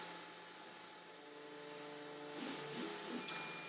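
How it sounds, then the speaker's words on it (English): A 3D printer running a print job, controlled by OctoPrint on a Raspberry Pi, gives a steady mechanical hum with stepper motor tones that rise and shift in pitch, close by and alone. "I hear in the background that it's printing"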